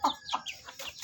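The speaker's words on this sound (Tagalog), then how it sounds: "dito sa taas namin may native na manok." A native chicken clucks a few short, throaty times nearby, in a quick uneven series.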